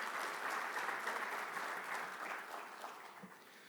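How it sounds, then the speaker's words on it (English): Crowd at a banking summit claps together, a full, sustained round of applause that holds steady and then begins to thin and fade toward the end. "Can we hear a huge round of applause for all them who made"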